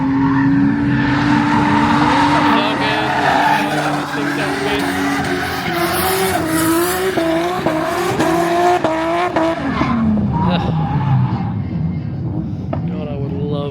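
Drift car at a drift event, engine roaring and rising through revs with tyre squeal and gearbox whine, then dropping away near the end, with talk mixed in.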